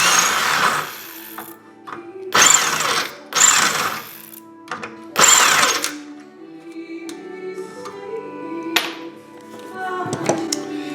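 A drill fitted with a 7/32 bit bores out 3/16 rivets, giving four loud, rough bursts of whirring and grinding, each lasting about a second, followed by quieter clicks and small mechanical rattles.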